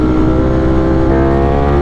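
A 208-horsepower motorcycle engine runs in fifth gear with a loud, close, steady droning roar, no voices over it.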